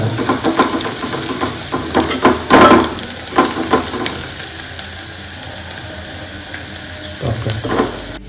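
Onion frying in a pan for a Vidarbha-style chili vegetable dish, with loud sizzling and stirring scrapes in bursts, quieter stretches between, and a strong sizzle surge near the end.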